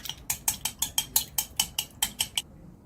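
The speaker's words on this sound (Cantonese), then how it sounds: "跟住用筷子將佢攪勻。" Eggs with a pinch of salt and pepper beaten briskly with chopsticks in a bowl, about a dozen quick, even clacks in steady rhythm, close and crisp, stopping abruptly.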